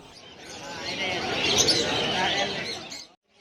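Crowded open-air bird market in Mirpur, Dhaka, with a dense wash of chirping, tweeting and cooing pigeons and doves mixed with busy crowd chatter, steady and loud before cutting out near the end.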